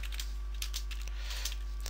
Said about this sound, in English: you can just start typing in the topic of your essay